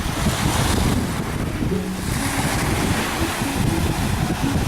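Surf rolls onto a beach at La Plage du Vendon in Martigues, a loud continuous wash of waves mixed with gusty wind buffeting the microphone, with no voices.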